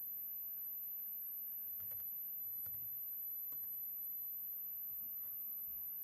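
Light typing on a computer keyboard, a few faint, sparse key clicks in small clusters over a quiet background hiss.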